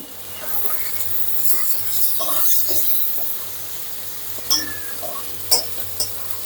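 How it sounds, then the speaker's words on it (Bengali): Prawns go into a spice paste over medium heat, and a steady close sizzle and hiss runs under stirring, with several sharper scrapes and taps of the spatula toward the end. "মশলাটা একটু কষিয়ে নিয়ে আমি এর মধ্যে চিংড়িগুলো দিয়ে দিলাম।"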